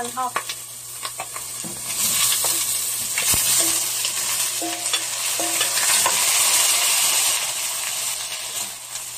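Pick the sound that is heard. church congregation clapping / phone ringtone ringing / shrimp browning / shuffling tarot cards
shrimp browning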